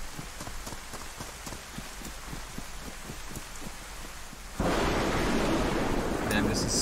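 Rain pouring during a thunderstorm in a video game, a steady hiss of falling drops with light pattering that swells suddenly louder and denser partway through, with no voices.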